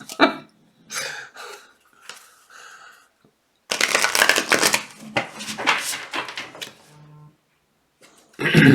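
A deck of tarot cards being shuffled in several bursts of riffling and sliding, close and crisp, with short gaps between rounds.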